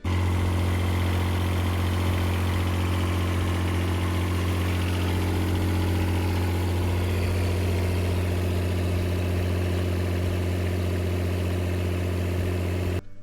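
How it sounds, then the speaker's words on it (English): A Kubota-powered PowerTech 8 kW diesel generator runs steadily at close range, a loud constant low hum with strong harmonic drone and mechanical vibration, unbroken for the whole stretch before cutting off at the very end. "This is a Kubota powered PowerTech 8 kilowatt generator."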